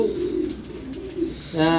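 Racing pigeons for sale coo in low, rolling murmurs close by, followed at the end by a louder, sustained tonal call.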